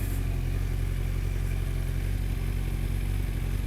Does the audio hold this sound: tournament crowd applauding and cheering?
no